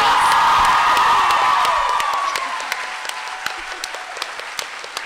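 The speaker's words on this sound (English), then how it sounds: "Give these guys a huge round of applause." Loud crowd applause with cheering at first at a New York Comic Con 2016 panel, fading over a few seconds into scattered individual claps.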